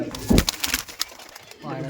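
A Punjabi Lal China pigeon coos briefly at close range in a loft, with someone talking over and around the call.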